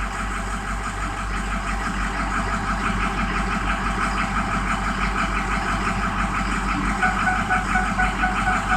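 Truck engine idling while warming up, with the number one cylinder dropping: a steady, close, continuous rumble that holds evenly for the whole stretch, with no voices.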